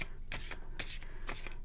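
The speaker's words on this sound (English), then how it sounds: "I'm just going to give them another shuffle." Three short, crisp riffle bursts as a deck of tarot cards is shuffled by hand close by, quiet and with no talking.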